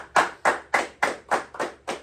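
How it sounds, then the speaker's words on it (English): Seven single hand claps from one person, evenly spaced about a quarter second apart, close and crisp with no talk over them. "I'll give you a clap for that."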